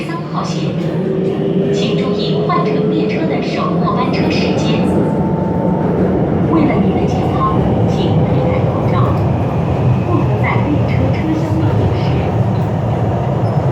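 A subway train runs with a steady, loud rumble and rattle of the cars throughout, punctuated by faint clicks and squeals, while voices talk faintly under the noise.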